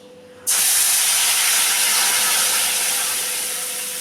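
Tamarind paste drops into hot oil spiced with panch phoron and turmeric in a wok, and a loud hiss bursts up at once, then holds steady and slowly fades a little, with no talk.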